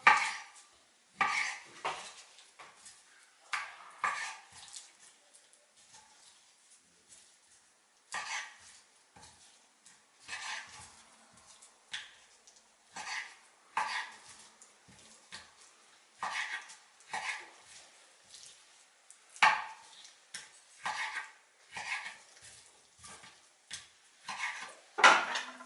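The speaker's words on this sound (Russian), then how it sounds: "Нарезаю 800 грамм куриного филе. Кусочки мяса нарезаю кубиком." A knife cutting chicken fillet into cubes on a board, repeated sharp, close chopping taps in irregular clusters with short quiet gaps, fairly faint overall with no talking.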